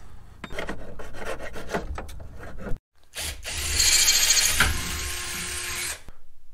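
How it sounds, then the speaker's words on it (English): A hand file rasps down broken plastic on a Ford truck part, first in quick separate strokes, then after a short pause in longer continuous scraping, close and fairly loud. "all the high spots where the plastic broke, I'm just gonna file that down so it's flush."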